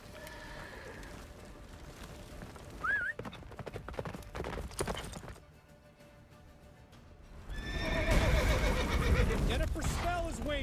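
Roach, a horse in a video game, gallops with steady rapid hoofbeats and gives a whinny along the way, while voices speak over the action and the hooves surge louder near the end.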